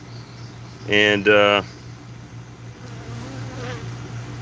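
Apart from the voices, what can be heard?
bee buzzing around a beehive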